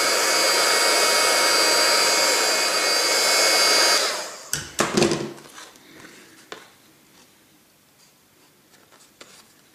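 A heat gun blows a steady, loud airy whoosh onto Creaflexx thermoplastic sheet for cosplay work, then cuts off, leaving a few close handling thumps and rustles in a quiet room.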